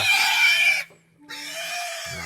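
Pig on a farm in the Philippines, taken from the field for roasting, gives loud close grunting oinks that stop briefly and then resume with a lower snort at the end.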